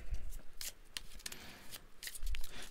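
Playing cards being shuffled for a card reading, crisp riffling bursts repeating several times at close range, with quiet stretches between.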